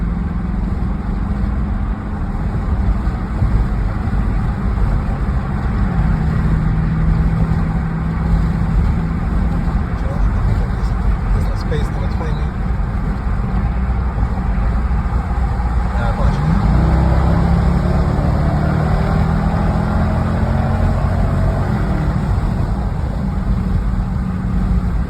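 2020 Dodge Durango with modified exhaust cruising with windows down, a steady deep mellow engine drone mixed with road and wind noise, continuous and loud, with someone talking over it.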